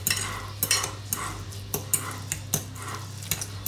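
A crab, avocado and shallot mixture is stirred in a bowl with a utensil, producing a series of short, sharp clinks and scrapes in an irregular rhythm. The sounds are close and fairly quiet, with no talking.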